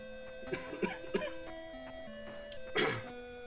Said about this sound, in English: got into a coughing fit